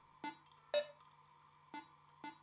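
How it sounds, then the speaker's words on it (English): Calibration beeps from the Rhythm Doctor video game, four short bright electronic tones at a slow, slightly uneven pace over a faint steady hum, with no voices. "Try to match it so the green lights blink at the same time as the beep sounds"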